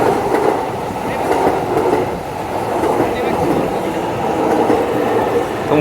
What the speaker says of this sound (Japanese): さあ今度は常磐線の電車がやってきましたね。